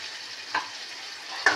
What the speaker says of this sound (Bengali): এই মশলাটা আগে কষিয়ে নিই।